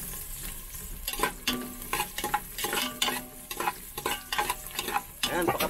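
Beef offal stirred in a pot, a run of scraping, sizzling stirs coming in close, irregular bursts with short pauses between them.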